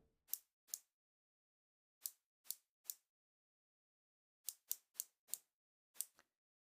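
A Seagull Ocean Star dive watch with an aluminium bezel is turned by hand, giving crisp, close, faint ratcheting clicks, singly and in quick runs separated by pauses, against silence.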